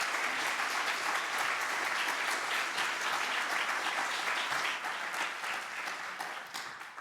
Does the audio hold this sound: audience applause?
yes